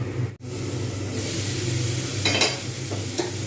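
Cauliflower and potatoes frying in a pan with a little oil, a continuous close sizzle with a brief dropout near the start and soft stirring scrapes later.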